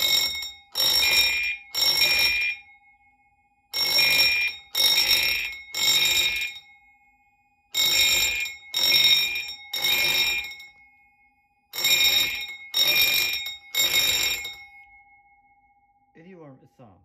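A fire alarm system sounds during a board test, blaring loud repeated triple bursts of electronic tone in a steady temporal pattern, four groups of three with short gaps, alone with no talk.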